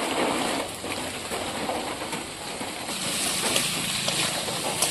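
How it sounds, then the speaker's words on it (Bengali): Steady rain pours down in a Bengali village, a dense, even hiss of drops on surfaces that swells slightly toward the end, with no voices. "কেমন বৃষ্টি হলো"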